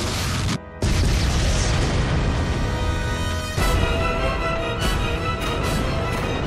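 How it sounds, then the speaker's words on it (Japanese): An enemy fleet's cannons fire in an animated film battle, a dense, continuous roar of booming blasts with sharp percussive hits breaking through near the start and the end. "敵艦隊発砲。"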